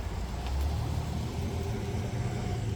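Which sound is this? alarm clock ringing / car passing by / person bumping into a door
car passing by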